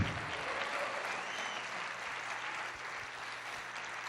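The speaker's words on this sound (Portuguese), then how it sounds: "Você pode aplaudir o Senhor e dizer glória a Deus." A church congregation claps together in steady, sustained applause at moderate distance, with a faint low hum running beneath.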